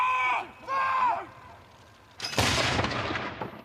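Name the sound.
ceremonial gunshots fired from Nottingham Castle on Armed Forces Day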